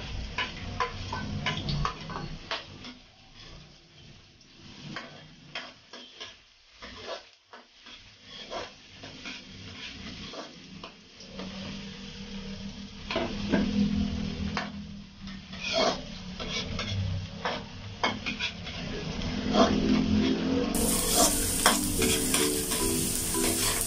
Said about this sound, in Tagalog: Lagay na yung luya niya.